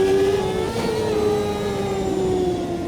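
An IndyCar engine in the Automobilista 2 racing game holds a loud, steady high-pitched drone. The pitch slides gradually downward as the revs ease off, and there is no talk over it.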